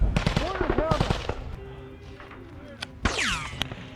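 Combat gunfire in Ukraine with bullets passing overhead, heard from a helmet camera: sharp close cracks and bursts of shots with whizzing rounds and scattered impacts, over a constant background rumble.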